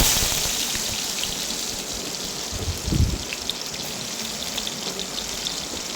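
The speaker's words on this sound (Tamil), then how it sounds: "வெங்காயம் நல்லா வதங்கட்டும். நல்லா வதக்கி விடுங்க." Onions sauté in oil in a pan, giving a steady, dense hiss of frying that stays even throughout, with a single brief thump partway through.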